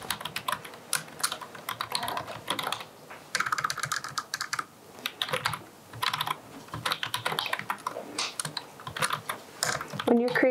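Computer keyboard typing in steady bursts of close, crisp key clicks, with brief pauses between runs and a louder clatter near the end.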